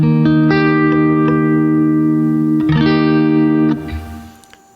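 Reggae guitar barre chords with one string muted, a few bright strums ringing with sustained harmonics and a sharper choppy stroke near the end, close and alone before fading out.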